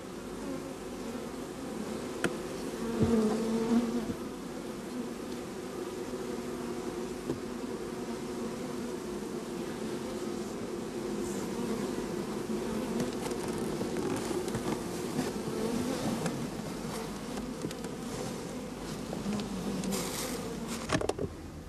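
A continuous, fairly quiet swarm hum of honey bees around hive frames and supers, a steady drone with occasional closer buzzes passing by.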